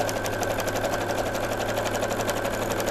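A sewing machine stitching together the front and lining of a simple zipperless fabric pouch: a fast, steady mechanical whir with rapid regular needle clicks, close and continuous, no talking.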